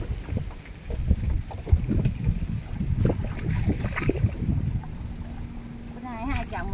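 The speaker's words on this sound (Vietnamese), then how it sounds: "Quá xá là gió luôn." Strong gusty wind buffets a small boat in Vietnam's Mekong Delta while shrimp and crab traps are checked, roaring and thumping against the microphone in uneven bursts, with voices faintly mixed in.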